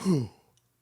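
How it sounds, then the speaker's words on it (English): A single stifled yawn, a low breathy exhale that fades out quickly, with a faint click near the end. "That was a good disguised yawn."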